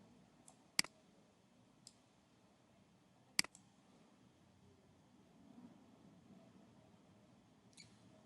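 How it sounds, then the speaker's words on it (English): Computer keyboard typing in a quiet room, with only a few sparse, faint clicks spread through the clip and a soft background hiss between them. "okay, let me just type it here."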